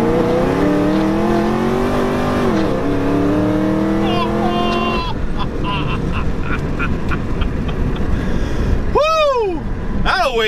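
A supercharged 6.2-liter V8 in a Cadillac CTS-V revs loudly and close, its pitch climbing and falling in long sweeps, then settling into a dense roar before a few sharp rising swoops at the end.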